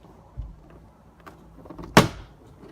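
Trim clips pop loose from a Lexus LX570 door panel: a soft low thump comes first, then one sharp, close snap, against a quiet background.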